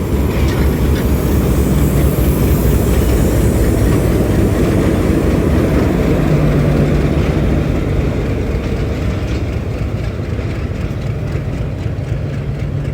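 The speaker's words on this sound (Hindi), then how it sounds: "पावर वैन यहाँ से डी अटैच करके लेके जा रहा है" A railway power van is uncoupled and hauled off at Rawalpindi station, with a loud, steady, deep engine rumble and rail noise filling the whole stretch and no breaks.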